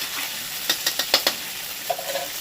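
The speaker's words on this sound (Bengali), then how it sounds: "রসুন আর আদাটা আগে ভেজে দিতে হবে একটু" Garlic and ginger frying in a pan for rohu fish kalia, with soft sizzling and a quick run of sharp stirring scrapes, then a brief faint clatter.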